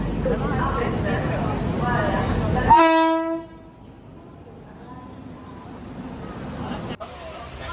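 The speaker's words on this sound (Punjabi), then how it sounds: "ਅਸੀਂ ਜਿਹੜੀ ਟ੍ਰੇਨ 'ਚ ਚੜਨਾ ਸੀ ਉਹ ਵੀ ਪਹੁੰਚ ਗਈ" A train horn sounds loud and close for about a second at a Ludhiana railway station platform, rising over a dense babble of station crowd noise and voices that then drops to a quieter background murmur.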